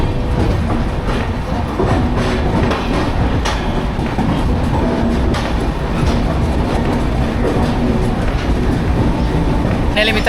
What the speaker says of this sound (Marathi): आपली ट्रेन निघालेली आहे आणि चाललेलं आहे